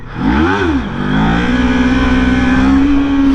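A motor revving up for a wheelie, close and loud, pitch dipping and rising before climbing into a sustained high rev that holds steady.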